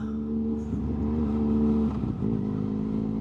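A motorcycle engine runs close by, a steady low droning hum that briefly dips and then picks back up, with no one speaking over it.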